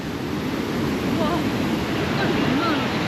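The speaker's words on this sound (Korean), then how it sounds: "여기는 후카폭포입니다 후카폭포" Huka Falls near Rotorua, New Zealand, a steady, dense roar of rushing water heard up close, mixed with some wind noise on the microphone.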